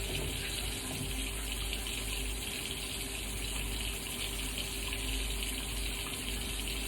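Tap water runs steadily to rinse skin after a TCA chemical peel, a constant, even rush of flowing water with no pauses and no voices.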